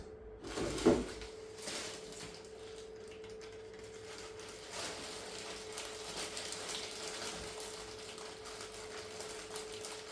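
Cable ties are handled and tightened with a brief ratcheting burst near the start, then faint fiddling clicks over a steady mechanical hum from a 3D printer setup.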